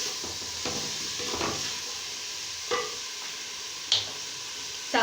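Chicken macaroni stirred in a pan with salt, black pepper and red chili, a soft background sizzle broken by several spoon scrapes and a few sharp metallic clinks against the pan.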